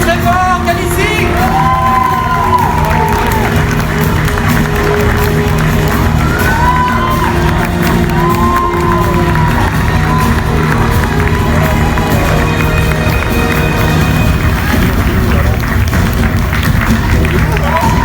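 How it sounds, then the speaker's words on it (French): A live audience at the Miss T France 2022/23 pageant claps and cheers loudly for first runner-up Calici, a dense continuous crowd roar with shouts and music-like tones running throughout. "On applaudit très fort Calici."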